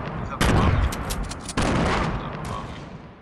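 Enemy gunfire in a shooter game comes as two loud, close bursts of rapid shots about a second apart, each trailing off into a crackling echo.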